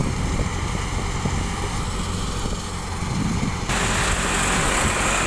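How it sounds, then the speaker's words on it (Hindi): A Farmtrac 60 tractor powers a mustard threshing machine, giving a steady, loud, continuous engine drone with broadband mechanical rumble and whir that grows slightly denser near the end. "देखो भाई ट्रैक्टर में ना तो ज्यादा आवाज है ना कोई वाइब्रेशन है।"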